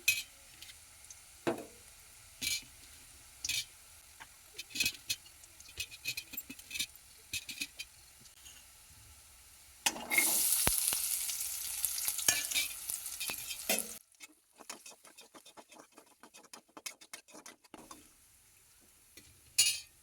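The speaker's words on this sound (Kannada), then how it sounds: "ಬೆಳ್ಳುಳ್ಳಿ ಚೆನ್ನಾಗಿ ಫ್ರೈ ಆದಮೇಲೆ ಈರುಳ್ಳಿನ ಸೇರಿಸ್ಕೊಳ್ಳೋಣ" Garlic and onion fry in a pan for curd rice, with repeated clinks and scrapes of a spoon stirring, a loud burst of sizzling midway, then softer frying and scraping.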